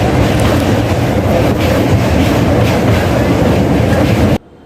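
The Gujarat Sampark Kranti Express, train 20946, rolls in at an Indian station with a loud, dense rumble and clattering wheels, steady and close, then cuts off abruptly near the end.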